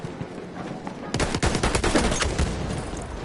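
Gunshots in a Call of Duty World War II video game, a rapid loud burst of shots starting after a quieter second and continuing densely to the end.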